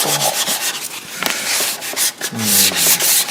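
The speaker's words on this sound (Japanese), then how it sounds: "今取ったところを削る。" Sandpaper worked by hand over a wooden dining table part, giving repeated close, rasping strokes in a steady back-and-forth rhythm with brief pauses between passes.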